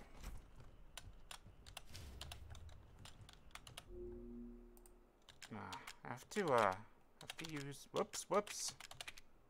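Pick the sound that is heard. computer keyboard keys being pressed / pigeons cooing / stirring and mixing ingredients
computer keyboard keys being pressed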